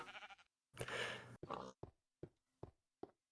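A sheep bleats loudly in Minecraft, then several short clicks and thuds follow in quick succession, with no talk over it.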